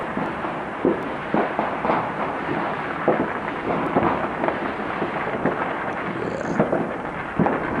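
Deep rolling booms and rumbles from a storm, with repeated low bursts at intervals over a steady noisy backdrop, some near and some distant.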